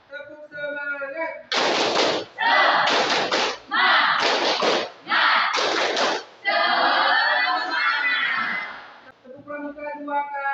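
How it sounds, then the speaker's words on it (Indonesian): A high-school class claps a rhythmic spirit clap in unison: loud grouped bursts of many hands in a set pattern, with voices chanting along between the claps. "Tepuk semangat."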